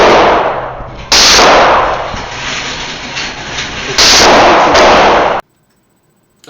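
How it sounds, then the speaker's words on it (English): A Glock 17 pistol fires rounds at a target about five yards away. Very loud, heavily distorted blasts wash together into two long, roaring bursts, then cut to near silence. "I was shooting about 15 rounds per magazine into that top left target"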